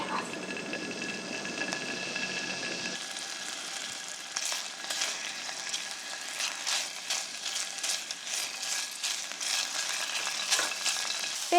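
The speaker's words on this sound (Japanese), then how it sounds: "先にベーコンを炒めます" Bacon fries in a pan for carbonara, a crackling sizzle with scattered pops and spits that grows busier after a brief quieter stretch, close and continuous, no voices.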